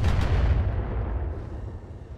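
BattleTech mech weapons fire at a Griffin mech, a heavy, rumbling, sustained barrage of booms that slowly fades, close and loud with no voices.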